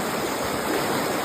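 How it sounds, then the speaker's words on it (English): A brook swollen with rain rushes by close in Newfoundland trapping country, a dense continuous hiss of flowing water with no voices heard. "a lot of water on this brook here down too"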